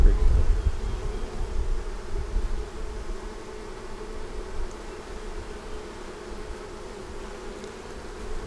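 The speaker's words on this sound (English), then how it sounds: "How fast those bees get on there and get to work cleaning it up." A steady, dense hum of many bees buzzing close by, continuous throughout with a slight rumble at the start.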